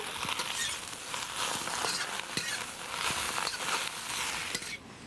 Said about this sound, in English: saute it in oil and garlic and the fish sauce